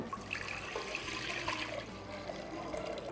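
Lentils are washed with water for a Kalyana kootu recipe, with close sloshing and trickling water swirling in a vessel throughout.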